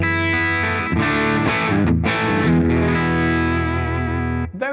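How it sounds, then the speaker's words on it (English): Electric guitar through a J Rocket Audio Majestic Overdrive pedal, with loud sustained driven chords changing every second or so before dying out, played alone. "Then number 2 is this Majestic Overdrive by J Rocket Audio."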